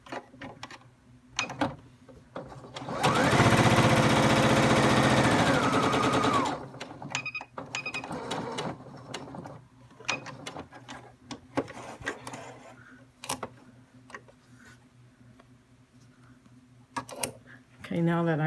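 A sewing machine runs a steady stitching burst for about three seconds while sewing a fabric pillowcase around its edges, loud and continuous, with quieter handling clicks and movement before and after.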